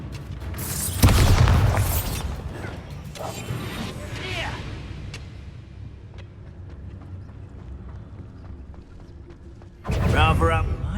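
Bombarda blasting spell going off in the Hogwarts Legacy video game, a loud booming burst at the start and another near the end, with softer combat rumble and brief voice bits between.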